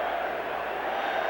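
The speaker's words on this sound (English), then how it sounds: "The crowd is chanting, "We want Perry."" A football stadium crowd at a 1985 Packers vs Bears game chants in a loud, continuous roar that fills the whole moment without a break.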